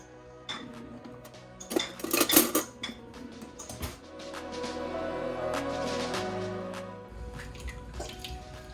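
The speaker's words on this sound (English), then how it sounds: "So you mix the water with the maize, and you just put everything in." Maize meal and water are mixed in a pot, with clanking metal utensil strikes against the pot and wet stirring and sloshing that settles into a steady churn.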